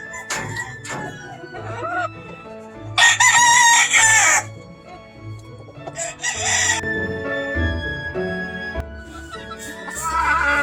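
Gray rooster crows loudly and close at a Georgia poultry farm, two strong drawn-out calls a few seconds apart amid hen clucks and other farmyard birds.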